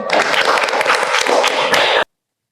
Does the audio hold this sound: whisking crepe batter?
no